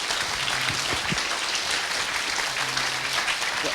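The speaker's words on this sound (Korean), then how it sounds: "다시 한번 박수해 부탁드리겠습니다" Audience applause for a guest lecturer at the close of a music composition seminar concert Q&A at a university, a dense steady wash of many hands clapping throughout, fairly loud and without speech.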